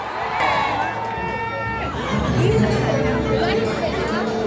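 A large outdoor crowd at a birthday gathering for Duterte murmurs and chatters in a steady, dense babble, with voices overlapping near and far.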